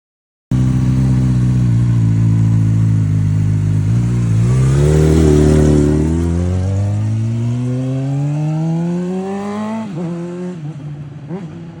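Honda CBR600RR sport bike on a test ride, its engine loud and close, holding a steady drone before revving up and climbing in pitch, then easing off with a few quick throttle blips.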